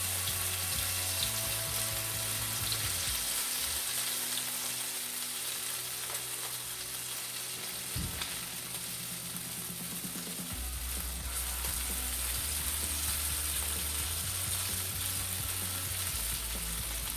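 Potato pancakes fry in a Lehman's iron skillet with a steady, close sizzle and crackle that holds without pause, with a low hum running underneath and no voices.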